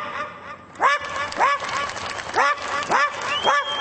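A voice imitates a poor household's dog barking, giving a series of about six hoarse, nasal, rhythmic yelps that sound almost like quacking, each one sharp and close.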